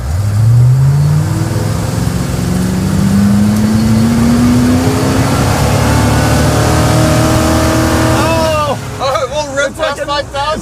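A loud big-block Ford truck engine revs hard under full throttle, its pitch climbing steadily for several seconds before cutting out abruptly, followed by choppy idle and brief talk.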